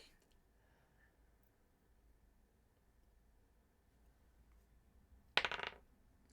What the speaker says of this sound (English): The dice roll is so funny.